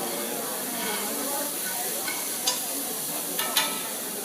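Shrimp and garlic cooking lightly in a pan, a continuous close hissing sizzle with a few sharp spitting pops near the end, no voices.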